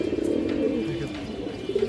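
Male silver racing-line pigeon cooing nearby, a soft series of low rolling coos that rise and fall over faint background noise.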